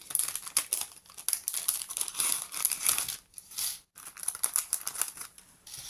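Crinkly plastic packaging being handled and torn open up close, with rapid rustles and crackles and a brief pause midway.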